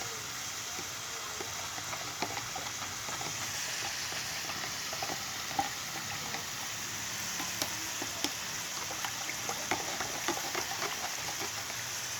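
Vegetables with fish and shrimp paste stirred in a hot pan, a steady loud sizzle of frying under scattered scraping clicks of the utensil, with no talking.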